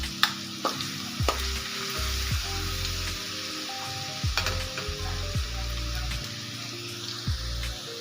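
Ginger garlic paste sizzles and crackles steadily in hot oil in a kadhai, with sharp spatula scrapes and clanks against the metal recurring every second or two throughout.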